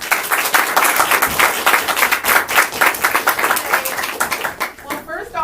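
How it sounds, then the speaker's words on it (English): A room full of people claps warmly to welcome Leah Goodridge to the stage at a CRS BLSA event, a dense, steady burst of many hands that tapers off near the end. "if you all could welcome her in with a warm round of applause"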